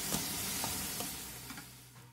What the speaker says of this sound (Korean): 다진 돼지고기 200g과 다진 마늘 반스푼, 소주 1스푼, 진간장 1스푼, 술을 넣고 센 불에서 볶아주세요.